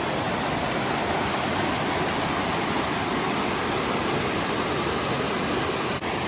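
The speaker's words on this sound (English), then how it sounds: "You can hear that little falls right here." A small waterfall on a rushing creek in the Georgia wilderness in sub-freezing weather, a steady, loud, close broadband roar of falling water that holds constant throughout with no voices.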